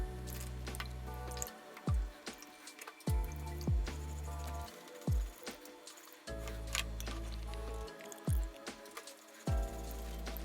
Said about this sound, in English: I'm gonna go ahead and run this through a strainer real quick, just to pull out anything that we don't want.